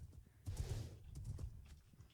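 A horse's hooves clip-clop in a Minecraft-style video game, a quiet run of soft, uneven hoofbeats close by, swelling briefly midway before settling into lighter steps.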